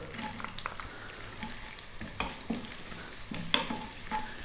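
A cup of chopped onion frying in a hot pan as the base for a vegan sweet potato masala curry, giving a steady close sizzle and crackle with a few sharper pops and stirring clatters, no talk.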